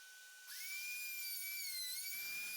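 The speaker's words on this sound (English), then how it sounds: "Then I use my router to cut a groove in the fence." A wood router cutting a groove in a wooden fence board sets up a loud, steady, high-pitched whine that starts abruptly after a short quiet lead-in and holds alone with a slight wavering in pitch.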